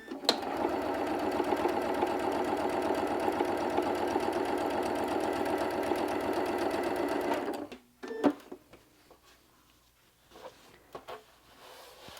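Sewing machine running steadily and close for about seven and a half seconds as it stitches along the edge of orange quilt fabric strips, then stopping, followed by quieter handling noises and small clicks.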